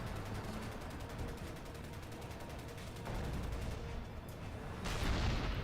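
Sustained rapid gunfire from a turret minigun in the video game Crysis, a dense continuous rattle with heavier bursts and booms near the end, loud and unbroken throughout.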